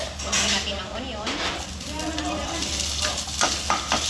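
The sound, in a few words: stir-frying onion in oil in a pan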